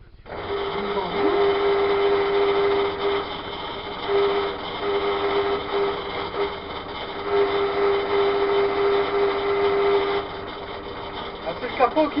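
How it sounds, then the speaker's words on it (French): A Brico Depot pillar drill runs with a loud, steady mechanical whine and a rattling hum from its vibrating hood, continuous and close, while someone talks over it. "c'est le capot qui vibre un peu"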